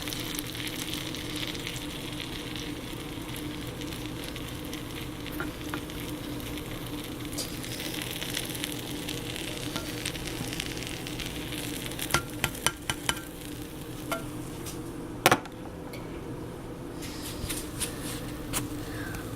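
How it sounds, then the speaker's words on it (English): A grilled cheese sandwich fries in melted butter in a pan, giving a steady close sizzle with occasional scrapes and clicks as a spatula presses down on the bread. "place the bread in there carefully. And get your spatula right here and press down."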